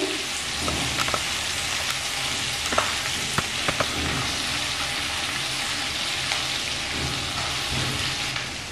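Ginger paste frying in a pan over a low flame for a rohu fish curry, a steady soft sizzle throughout with a few light scrapes and taps of a spatula stirring, no voices.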